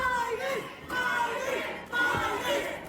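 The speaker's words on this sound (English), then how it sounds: "You can hear him in the crowd." Wrestling fans in an arena crowd shouting and chanting during a championship match, a dense roar of many voices with individual yells rising above it, continuous and loud throughout, with a commentator talking over the crowd.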